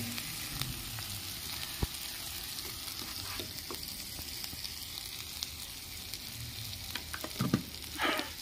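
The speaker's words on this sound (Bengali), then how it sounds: "ভালো করে নেড়ে নেব।" Giant river prawn malai curry sizzles steadily in a hot pan while being stirred, with a constant frying crackle and a few spoon scrapes and clinks near the end; no voices.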